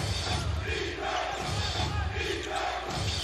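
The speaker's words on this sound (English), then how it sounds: "Hearing chants of defense from the crowd." Basketball crowd at the Cuneta Astrodome chanting defense during an MPBL 2023 game between Caloocan and Pasay, a rhythmic, roaring two-beat chant repeating steadily and filling the arena.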